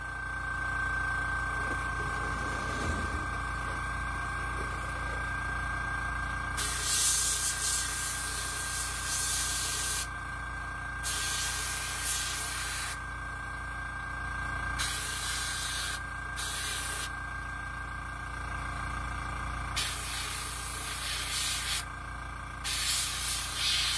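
An aerosol can sprays paint onto a resin Jaws shark model kit in repeated bursts of hiss, some long and some short, close by over a steady background hum.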